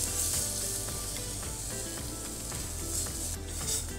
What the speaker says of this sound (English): we start adding our milk